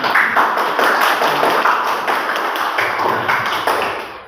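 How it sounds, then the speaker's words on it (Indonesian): A classroom of students breaks into applause, dense, steady clapping that stays loud and even for several seconds with no voices above it. "tepuk tangan dulu semua"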